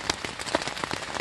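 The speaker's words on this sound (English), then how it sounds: "It was starting to rain inside the tent" Rain pattering on a tent during a bicycle trip through a forest in France, a steady, dense spatter of close droplets with scattered louder taps, continuing without any voices.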